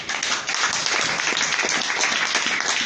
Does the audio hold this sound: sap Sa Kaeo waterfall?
no